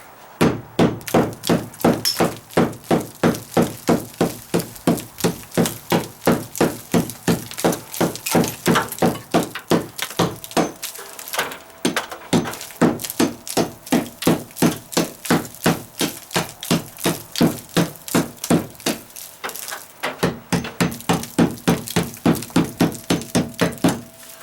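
A hammer strikes repeatedly while knocking stucco loose from a wall during a dry-rot deck repair, with sharp, evenly spaced clanging blows that continue steadily and close up, pausing briefly a couple of times.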